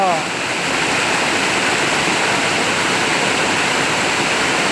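A natural waterfall on a Thai river, a steady roaring wash of falling water that stays loud and even throughout, close by with no voices over it.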